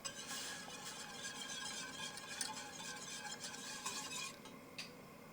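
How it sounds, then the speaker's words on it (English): Cornmeal polenta being whisked in a pot as the liquid heats, a quiet continuous rapid swishing and light wire scraping with a soft faint clink near the end, no talking. "turn the heat to medium-high and whisk frequently as the liquid comes to a boil"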